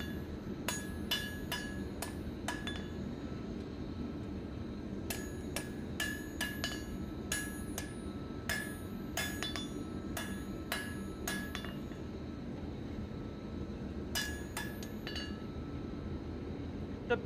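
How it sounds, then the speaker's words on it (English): A blacksmith hammers hot steel into a fire poker, straightening and cleaning it up. Sharp ringing strikes come in quick clusters with pauses between them, close by over a steady low background hum. "Now I'm just kind of cleaning things up, straightening it out, removing marks I don't like."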